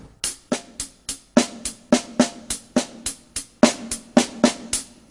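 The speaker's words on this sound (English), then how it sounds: "take that single paradiddle" A snare drum plays a single paradiddle rudiment, a steady, even stream of crisp strokes with slightly varying loudness, close and unaccompanied.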